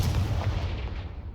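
The Confringo explosive spell from Hogwarts Legacy bursts in a short, heavy blast, a loud low thump that fades quickly into a rumbling tail, with nobody speaking.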